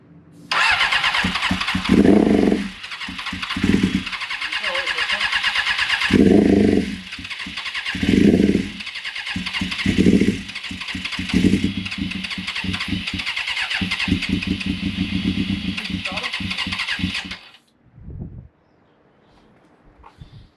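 A 1996 Suzuki GSX-R 750 SRAD track bike engine cranking and catching, then running with repeated sharp throttle blips over a loud, buzzy idle before shutting off near the end.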